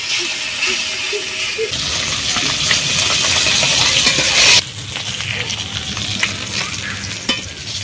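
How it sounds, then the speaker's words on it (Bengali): Loud, steady sizzling of fish frying in hot mustard oil, a continuous crackling hiss with occasional pops and stirring throughout. "মাছগুলো ভাজা হতে থাক"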